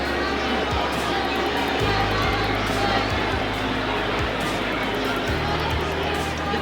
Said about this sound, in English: The crowd yells when Joe lands a left hook